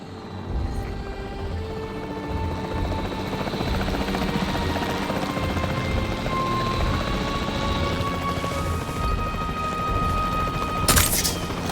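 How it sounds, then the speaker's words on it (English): Capture team helicopter in the video game Jurassic World Evolution 3, its rotor drone steady and loud throughout, with a burst of gunfire or impact near the end. "The priority needs to be tranquilizing it with the capture team chopper."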